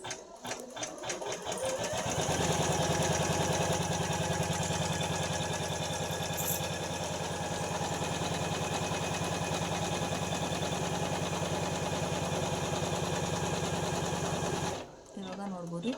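A home embroidery machine stitches a blouse design with a steady, fast mechanical whir and needle rattle that runs loud and continuous for most of the stretch before stopping near the end.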